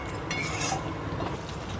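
Prawn malaikari is stirred in a pan with a spoon, giving a steady, close scraping and soft clinking with a faint simmer underneath. No one speaks.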